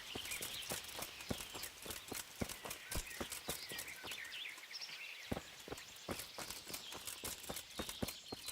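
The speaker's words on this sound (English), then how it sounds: "Making a lot of noise with her armor." Rhythmic metallic clinking and jangling from a character's plate armor in a medieval video game, steady repeated clanks with each step, fairly loud and continuous over a faint ambient background.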